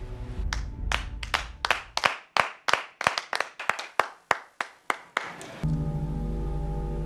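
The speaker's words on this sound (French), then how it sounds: "Pour ça, on doit encore lui accorder un terrible tonnerre d'applaudissements." Sharp, isolated hand claps ring out one after another in a steady rhythm near an official ceremony audience, loud and close without voices, before a sustained tonal hum takes over at the end.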